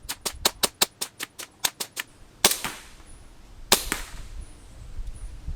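Novritch SSP1 airsoft pistol firing a rapid string of about a dozen sharp, evenly spaced shots, then two louder, more spaced cracks, with faint hiss between and no talking.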